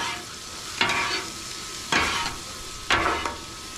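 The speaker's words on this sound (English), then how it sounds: "We're gonna flip this cabbage here, the cabbage and onion." Cabbage and onion fry on a flat-top griddle in a steady sizzle, broken by three louder scraping stirs as a spatula turns the vegetables.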